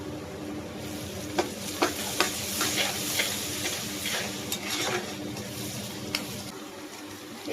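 Onions fry in a pan on an electric stove with a steady, close sizzle, broken by a few sharp clicks and scrapes as they are stirred.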